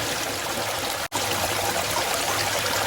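Steady flow of mountain spring water, a continuous broadband rush with no voices, briefly cut by a momentary dropout partway through.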